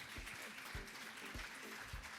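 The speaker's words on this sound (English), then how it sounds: "Round of applause for our panels," Audience applause for a panel at an esports and well-being conference session, a dense, steady roll of clapping from a room full of people lasting the whole moment, close and fairly loud.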